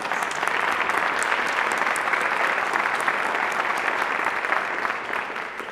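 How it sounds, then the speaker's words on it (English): Audience applause for the band boosters at a 2021 band concert, a steady, dense clapping that holds evenly for about six seconds with no talk over it. "Our band booster, let's give them a round of applause."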